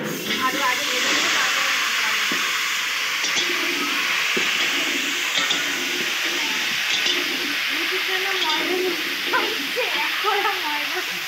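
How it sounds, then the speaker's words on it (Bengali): Potatoes frying in oil for a meat dish, a steady loud hiss and sizzle throughout with faint clinks and voices in the background. "আমি এদিকে আলুগুলো ততক্ষণ ভাজা আরম্ভ করে দিচ্ছি।"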